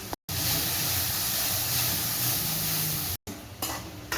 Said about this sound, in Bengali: মশলা আমার কষানো হয়ে গেছে